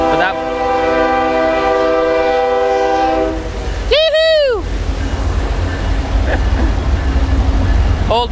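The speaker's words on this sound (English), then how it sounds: "noisy train coming by" A train horn blares loud and sustained, then a passing train rumbles and roars close by at a small spillway pool, with a sharp squealing burst midway through the continuous noise.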